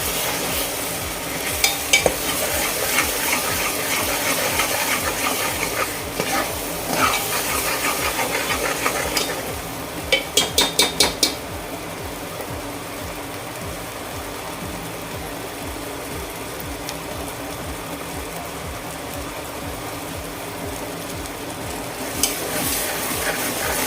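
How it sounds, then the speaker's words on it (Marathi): Stirring ground masala paste in a pan for a rustic village-style chicken curry, a steady scraping and soft sizzle running continuously with a brief burst of sharper clinks near the middle, no voices. "आता हे आपण व्यवस्थित असं मिक्स करून घेऊया"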